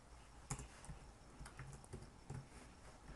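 Keys clicking on a computer keyboard as someone types C# code, quiet irregular taps with a few sharper strokes in a short burst.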